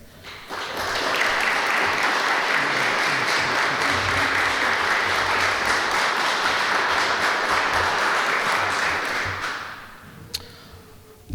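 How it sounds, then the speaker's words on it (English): A crowd applauds at a police cadet graduation ceremony, steady full clapping that swells quickly, holds for around nine seconds, then fades out. "We applaud you, Cadet Reyes."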